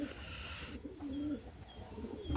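Soft homing pigeon coos murmur close by, with a few light chirps and some background rustle; no talking.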